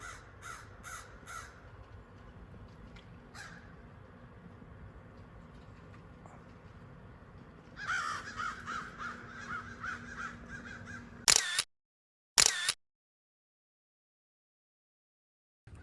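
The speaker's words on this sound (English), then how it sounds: "And some crows don't like it." Crows caw at a hawk perched in a tree at Warriors' Path State Park, with loud harsh calls in short bursts near the start and middle before sudden clipped noise and silence.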